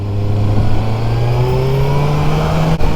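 A Corvette Z06 ZR1 sports car revs hard, its engine note climbing steadily as it accelerates, loud and close, with a sudden brief dip near the end.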